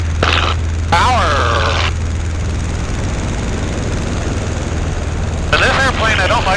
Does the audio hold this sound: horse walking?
no